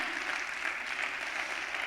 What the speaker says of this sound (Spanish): Dale un aplauso al que suelta la palabra.